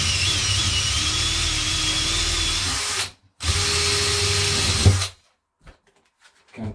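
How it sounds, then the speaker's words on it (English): A power drill drives a DeWalt Wall Dog corkscrew screw through a batten into plasterboard. Two loud whirring bursts are heard close up, a long one and then a shorter one after a brief pause, followed by quiet. "Take one of these little corkscrew screws, put one of them in."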